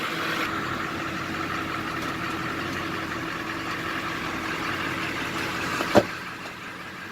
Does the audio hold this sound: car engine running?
yes